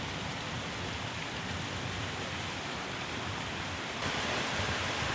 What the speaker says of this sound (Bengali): এবছরের দ্বিতীয় বৃষ্টি।